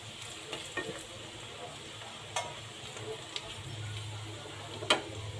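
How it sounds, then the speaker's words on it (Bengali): Potatoes fry in a pan with turmeric and chili powder, giving a steady close sizzle while a utensil stirs and scrapes through them in scattered light clicks. "সুন্দর করে নেড়ে চেড়ে নেব।"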